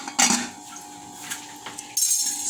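A lid clatters onto a metal frying pot of Guyanese fried chicken, with a sharp clink near the start and a second clank near the end over a faint background hum.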